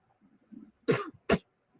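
Two sharp sneeze-like bursts from a man, close and fairly loud, a short gap apart, with faint breathy sounds before them.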